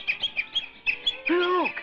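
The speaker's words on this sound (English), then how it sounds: "Hundreds of nightingales coming this way." A flock of nightingales sings, with repeated bright chirps and whistled phrases closing in a rising, swooping warble that grows fuller near the end.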